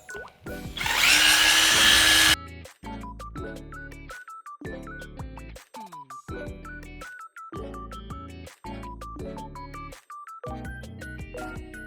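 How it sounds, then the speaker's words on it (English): A power drill polishing a Honda S2000 hardtop's plastic rear window whirs loudly in a steady burst for about two seconds, then stops; a tonal melody with plucked, ringing notes continues afterward. "Just gonna get it in there and start drilling."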